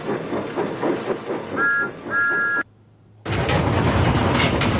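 A train chugs along with rhythmic clatter and two short whistle toots, then cuts to a brief near-silence before loud rolling rumble resumes.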